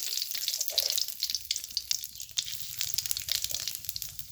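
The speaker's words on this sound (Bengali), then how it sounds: "আমি তেজপাতাটা ছেড়ে দেবো আগে, তারপর জিরে একটু দিয়ে দেবো" Bay leaf and cumin seeds sizzle in very hot oil for a taro stolon curry, a close, continuous crackling hiss dotted with small pops throughout.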